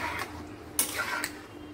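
Spoon stirring Bengali khichuri of gobindobhog rice with spices in a pot: a few sharp metallic scrapes and clinks against the pot over quiet kitchen background.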